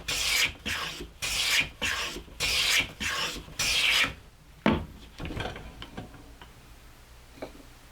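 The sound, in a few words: hand plane taking shavings off wood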